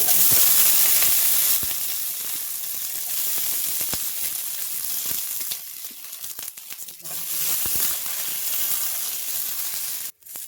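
Green chilies frying in oil make a loud hissing sizzle that eases midway and swells again, with crackles and faint voices in the background, and it cuts off sharply at the end.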